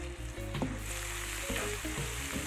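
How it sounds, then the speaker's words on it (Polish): Red onion jam sizzling in a pan as it is stirred and stewed, a dense continuous frying hiss close by with occasional soft stirring knocks. "Wszystko razem mieszam, duszę, czekam aż smaki się przenikną."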